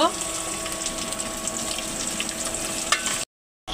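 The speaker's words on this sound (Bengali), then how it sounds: "তো এই যে মাছটা দিয়ে এই যে ভাজতেছে কিভাবে" Fish sizzling steadily in hot oil in a pan with onions, a close, continuous frying hiss that cuts off abruptly near the end.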